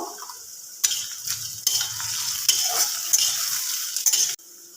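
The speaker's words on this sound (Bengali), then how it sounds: "এবার আমি দিয়ে দেব ক্যাপসিকাম ক্যাপসিকামটা দিয়ে একটু মিক্স করে নেব" Onion, carrot and capsicum being stirred and fried in oil for Maggi noodles, a steady bright sizzle with repeated scraping strokes of a utensil against the pan, close and loud with no talking.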